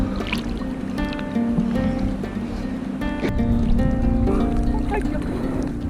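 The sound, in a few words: buffalo swimming across river with riders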